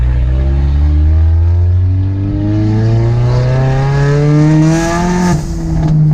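A loud car engine and exhaust drone close by while the car drives on the interstate. A deep, steady engine tone rises slowly in pitch as the car speeds up, then eases back, with no talking.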